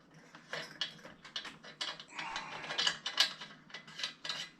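Small wrenches clicking and scraping against metal nuts while a Coleman 220F lantern is taken apart, a string of close, irregular metallic ticks and rattles with no talking.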